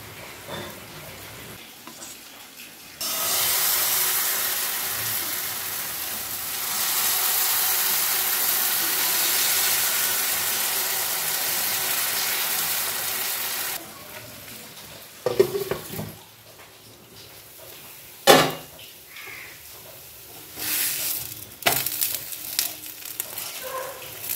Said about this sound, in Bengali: এই যে ব্যাটারটা আমার রেডি, এবার ভেজে নেব, অল্প অল্প তেল দিয়ে ভেজে নেব